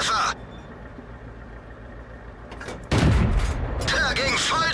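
A loud cannon blast rings out from a tank in the World of Tanks video game, striking an enemy heavy tank, followed by a second crashing burst of shot and impact noise after a brief quieter stretch.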